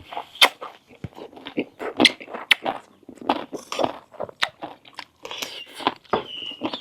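Crisp, close crunching and biting of fresh vegetables dipped in Thai shrimp paste chili dip, irregular loud chews separated by brief pauses.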